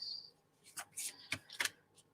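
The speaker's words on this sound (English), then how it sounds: "Then we're gonna shuffle 7 times" A deck of cards is riffle-shuffled close by, a few quick separate ripples and snaps with short pauses between them, faint and fairly quiet.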